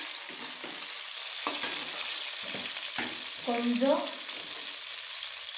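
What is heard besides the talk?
onions frying and being stirred in a pan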